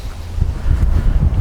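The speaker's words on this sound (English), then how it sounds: "It is really windy." Strong wind buffets the microphone on an open golf course, loud low rumbling gusts that swell and fade unevenly, with no talk.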